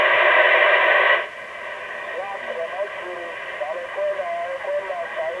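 A President Harrison AM FM CB radio hisses with loud static once squelch is switched off, first a dense broadband roar, then a softer steady hiss with faint warbling tones running through it.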